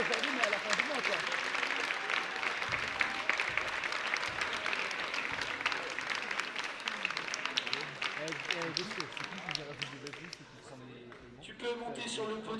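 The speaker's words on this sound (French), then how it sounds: "On peut l'applaudir, mesdames et messieurs." An audience at a French women's championship final applauds the third-place finisher, the steady clapping carrying on for most of the stretch and fading out near the end while voices are heard throughout.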